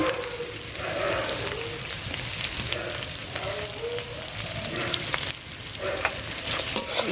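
Ground spices with turmeric, coriander and cumin powder sizzling steadily in a frying pan as they are stirred and sautéed, a continuous close frying hiss with occasional scraping of the spoon.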